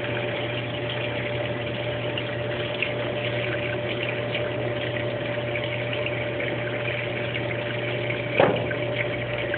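A Brastemp Baby Mondial washing machine fills with water, giving a steady, even rush and a low motor hum close by that holds unchanged throughout, with one brief knock near the end.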